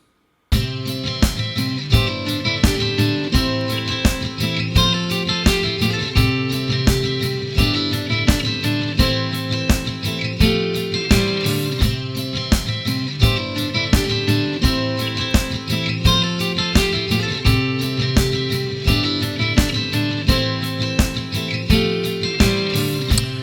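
Strummed acoustic guitar plays a full, layered part over a steady drum beat, dense and continuous from start to finish with no voices.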